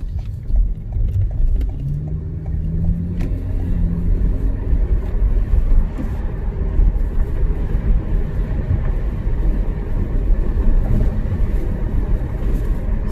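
Steady low road rumble from inside a car driving along, with continuous engine and tire noise at an even level throughout and no voices.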